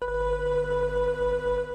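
Sonicware Liven Texture Lab granular synth with the granular blend fully up gives a steady droning tone, smooth layered pitches with a soft low rumble and gentle pulsing, moderately quiet and alone.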